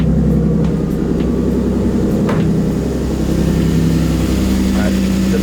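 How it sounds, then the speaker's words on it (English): Lexus IS300 engine idling steadily just after starting, a continuous low rumble running close and loud the whole time with faint clicks and ticks on top. "My car just turned on."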